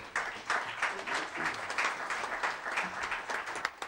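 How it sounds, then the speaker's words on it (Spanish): Audience applause at a poetry reading, a steady wash of many hands clapping, somewhat distant and moderately quiet, continuous for about four seconds with no speech over it. "para quien les pido un fuerte aplauso"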